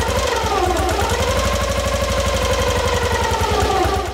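A 1936 bevel-drive classic motorcycle engine, freshly retimed magneto, runs close and loud with a rapid, steady, even firing beat throughout.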